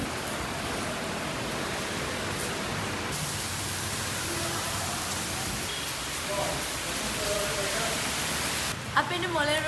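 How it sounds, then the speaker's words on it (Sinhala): Heavy rain, mixed with hail, pours down in Paris near the Moulin Rouge as a dense, even hiss that fills the whole stretch, with faint background sounds emerging briefly near the end. "ඒ කියන්නේ හයියෙන් වහින අයිස් වැටෙනවා."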